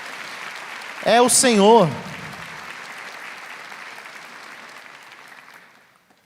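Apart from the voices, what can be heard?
congregation applauding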